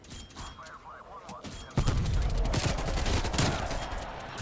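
Video game gunfire from a strafe run in Call of Duty Cold War, a dense sustained volley of rapid shots starting abruptly and continuing loudly, preceded by quieter game sounds with faint warbling tones.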